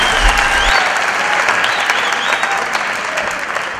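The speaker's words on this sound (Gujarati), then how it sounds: "જોરદાર તાળી પાડો એમના માટે ભાઈ." Audience applause at a Gujarati comedy show held during a Ganesh festival, loud and dense clapping that runs steadily and eases slightly toward the end.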